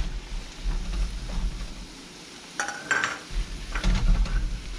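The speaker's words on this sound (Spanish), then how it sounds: "Y vamos removiendo" A spoon scrapes and clinks against a bowl as spices are stirred into a fish and plantain paste, with soft mushy stirring and a few sharper knocks of utensil on dish, close and fairly quiet.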